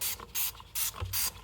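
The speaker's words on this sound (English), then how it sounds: "Just take it, just spray it in there." Four short, sharp spray bursts of Dawn dish soap squirted into a bottle while cleaning a four-wheeler, evenly spaced and close, with quiet gaps between them.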